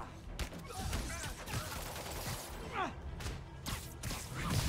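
Rockets fire and explode in Marvel's Spider-Man on PS5, a dense busy mix of blasts, whooshes and crashes of game combat, loud and continuous with sharp repeated impacts.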